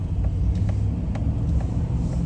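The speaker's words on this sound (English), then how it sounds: "At least car's coming up." A car rumbles past on a Florida street at night, a steady low engine drone with faint ticking, heard from inside a vehicle without speech.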